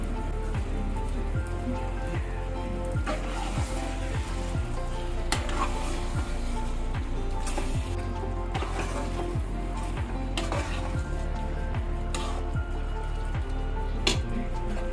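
Achaar masala with cream cooks on a low flame, giving a steady, dense sizzle and bubbling crackle that runs unbroken and fairly loud, close up, with no voices.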